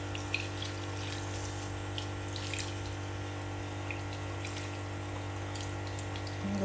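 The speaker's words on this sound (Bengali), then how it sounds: "এবার কিন্তু আমি একটু জল অ্যাড করে দেবো।" Water poured into a pot of cooking mutton, a quiet, continuous trickling pour over a steady low hum of a stove or kitchen appliance, with no talk.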